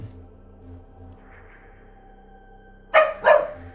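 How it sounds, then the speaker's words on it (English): A pet dog named Dahlia gives two quick barks close by, sharp and loud after a stretch of quiet room hum and a faint steady tone. "No, no barking, please."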